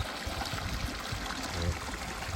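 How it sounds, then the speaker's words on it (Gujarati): Borewell water flows out of a pipe and straight into a farm field, a steady close rushing and trickling that continues unbroken throughout. "આ બોર આ નેનનું પાણી અમારે આવે જો અહીંથી સીધું"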